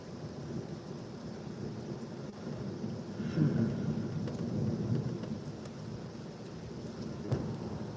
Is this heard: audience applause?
no